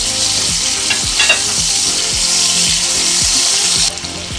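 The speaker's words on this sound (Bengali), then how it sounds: "আগে থেকে লবণ হলুদ মেখে রাখা চিংড়ি মাছগুলো আলু ভুজে নেওয়া তেলের মধ্যে সব দিয়ে দেবো দিয়ে তিরিশ থেকে চল্লিশ সেকেন্ড নেড়ে ছেড়ে ভেজে নেব" Prawns rubbed with salt and turmeric hit hot oil left from frying potatoes, giving a loud, dense sizzle with rhythmic scraping as they are stirred, up close, before the hiss drops away near the end.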